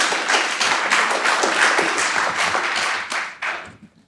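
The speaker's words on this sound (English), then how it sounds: "So, all those intros, so another round of applause." Audience at a tech panel on engineering and product alignment giving a dense round of applause, steady and close for several seconds before thinning out into a few final claps.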